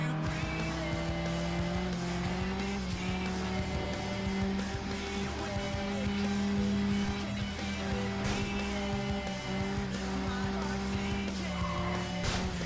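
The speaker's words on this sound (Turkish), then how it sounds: "inşallah motor sesi sizi rahatsız etmiyordur" A loud, steady engine drone from the racing video game FlatOut 2, with shifting pitch and occasional tire squeals, running continuously with no talking.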